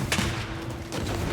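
Gunfire in Banishers: Ghosts of New Eden, a few sharp close shots and booming reports with rumble between them, one burst near the start and another later on.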